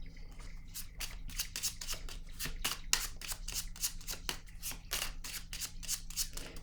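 Playing cards riffle and snap down one after another in a quick, steady run of crisp flicks and slaps close by, with a soft low hum behind them and no talking.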